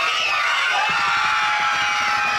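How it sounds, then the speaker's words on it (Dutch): A crowd of children shouts together for Sinterklaas at a Pieten event in Ypenburg. The loud massed voices fill the whole moment as one sustained, blended roar. "Zullen we dus met z'n allen proberen om Sinterklaas te roepen?"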